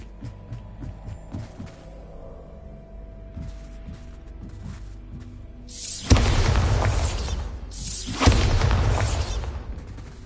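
Two heavy, booming blasts from the Bombarda spell in the Hogwarts Legacy video game, a few seconds apart, each a loud crash that rings out, following a stretch of quieter game ambience and thuds.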